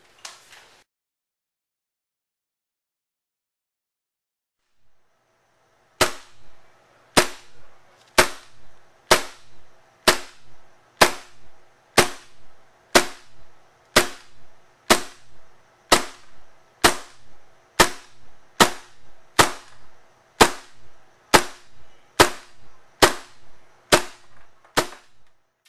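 A KJW 10/22 airsoft rifle firing downrange: after a quiet lead-in, a long run of sharp, snappy single shots at a steady pace of roughly one per second, close and crisp.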